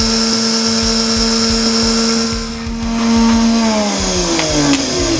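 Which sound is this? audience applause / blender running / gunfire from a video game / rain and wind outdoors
blender running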